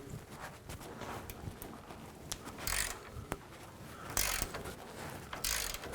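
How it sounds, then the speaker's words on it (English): A ratchet fitted with a 24mm socket works loose a control arm nut on a 2007–14 Chevy Silverado, giving several short, close clicking and clattering bursts spread over the stretch, with no talking. "I'm going to start by removing this nut, 24mm socket. Break this free."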